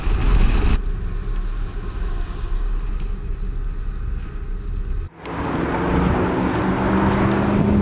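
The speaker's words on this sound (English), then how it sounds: "So right now we're going 50, cruising on a highway, and we'll just keep going." Steady road roar and wind inside a BMW F30 cruising on a highway at about 50 with a flat run-flat tire, a continuous even rumble that shifts abruptly to a brighter, louder wash partway through.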